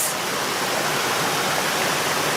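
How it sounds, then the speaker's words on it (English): High-flowing spring water at Ikogosi Warm Spring in Nigeria rushes in a steady, dense roar, a continuous close wash of splashing with no voices over it. "Here, the flow is very high and the sound of the water is also high."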